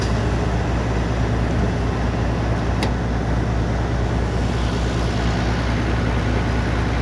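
Farm tractors run their hydraulics to drive a pan in a pea field, making a loud, steady low engine drone that holds throughout with no speech.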